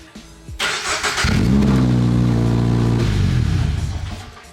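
A Subaru BRZ/GR86 flat-four with a new aftermarket exhaust cranks and starts up close, then settles into a loud, steady, throaty idle that fades slightly at the end.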